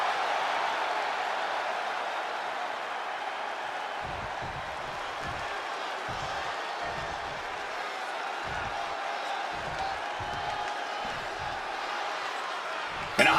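Steady crowd roar fills a wrestling video game arena, a dense wash of cheering that runs unbroken throughout, with an announcer talking over it.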